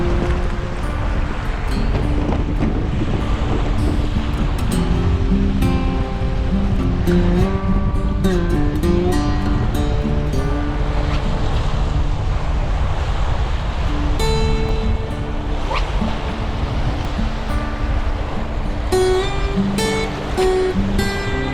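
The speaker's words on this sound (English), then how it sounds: "it's absolutely blowing a gale" Gale-force wind roars across a Scottish loch at Loch Laggan, whipping up waves, a loud, steady rush of gusts and churning water that never lets up.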